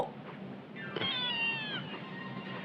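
A cat in the video game Sakura School Simulator gives one clear, drawn-out meow over quiet game background sound.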